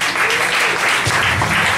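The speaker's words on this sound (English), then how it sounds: "Everybody give a round of applause for everybody who's come up and everybody who's going to come" Audience applause at a live comedy night at Cafe Diem in Richmond, a steady, dense wash of clapping from a small crowd filling the whole stretch, loud and continuous without letting up.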